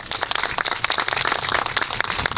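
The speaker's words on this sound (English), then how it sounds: "I think we cannot go without giving them a round of applause." A crowd at the Illinois Main Street Legislative Day rally gives the volunteers a round of applause: dense, steady clapping from many hands, close and fairly loud, with no talking over it.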